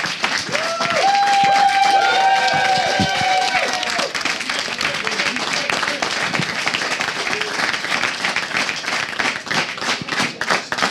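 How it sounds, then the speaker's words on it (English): Crowd at an IEM Cologne StarCraft 2 esports event in Germany giving a standing ovation, loud sustained applause and cheering filling the hall, with some tonal music or cheering at the start. "does get a standing ovation from the crowd here in Germany"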